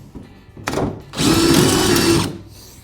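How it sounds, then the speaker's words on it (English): A power drill whirs briefly while building a jon boat storage deck, then runs steadily at high speed for about a second before winding down, close and loud. "To make sure everything lines up, I'm gonna start with my drill."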